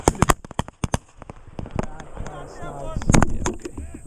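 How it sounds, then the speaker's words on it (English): Shotgun blasts during a European-style pheasant hunt: several sharp, loud reports cracking in quick succession outdoors, with people talking between shots. "once you see one, you flip your safety off and aim and shoot"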